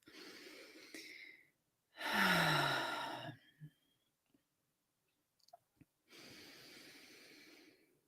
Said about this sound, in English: We're going to take 3 long, slow, deep breaths in through the nose, out through the mouth.